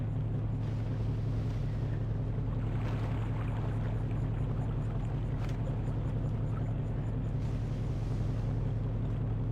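Sailing yacht in the eSail sailing simulator game, a steady low rumble of wind and water with a constant hum running evenly throughout, no voices.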